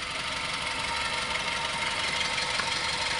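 Suzuki Aerio car engine idling steadily in close range, a continuous even hum with a dense mid-range texture and no voices, holding at a constant level throughout.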